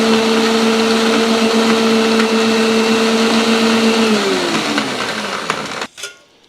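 A blender whirs steadily, blending aloe vera juice with added water into a liquid drink, a loud continuous motor drone that winds down and stops near the end, followed by a brief clatter.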